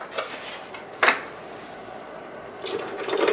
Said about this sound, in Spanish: Y agregarle más agua.